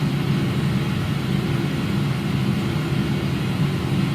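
Boeing 777 engines running at takeoff thrust in a flight simulator game, a steady loud low roar that holds even throughout with no voices over it.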